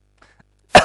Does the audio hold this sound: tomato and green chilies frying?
no